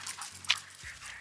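An excited, energetic dog pants and lets out short whimpers in a brief, close burst with no talk.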